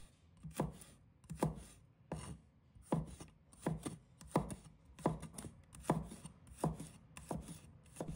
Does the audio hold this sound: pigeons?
no